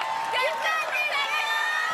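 Friends on the sidelines of an American Ninja Warrior Los Angeles finals course cheer and whoop for a competitor, a lively burst of crowd shouting that runs steadily throughout.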